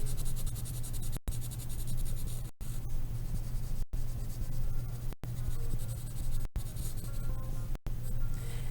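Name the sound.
pencil shading a drawing's background at an angle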